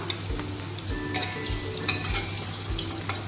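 Tangra fish fry in mustard oil in a wok, giving a dense, close crackling sizzle punctuated by a few sharp spits and clinks.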